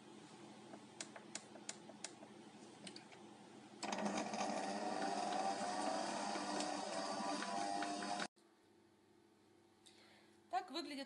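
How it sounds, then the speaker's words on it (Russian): A stand mixer with a paddle runs at slow speed through red velvet cake batter made with cocoa powder, giving a steady mechanical whir after earlier clicks, then cutting off abruptly into quiet handling noises. "Смесь перемешиваем лопаткой до однородного состояния, обязательно на медленной скорости."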